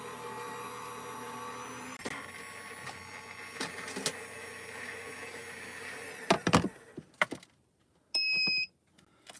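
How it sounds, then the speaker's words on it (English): A Gemini Junior die-cutting machine runs hot foil dies with a steady mechanical whir and hum, broken by a few clicks and clunks near the end and a short beep, with no one talking. "I'm running it through my Gemini Junior machine off camera"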